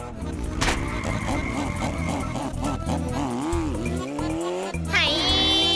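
Cartoon motorbike ridden fast, a steady loud engine-like drone with squealing, swooping tones and cartoon sound effects layered over busy background music.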